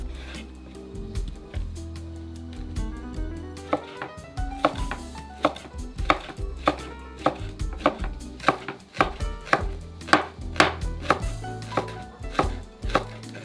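Knife slicing an onion into rings on a cutting board, a steady run of crisp, close chopping strikes at an even rhythm with no talking.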